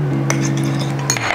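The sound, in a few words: whisking eggs in a bowl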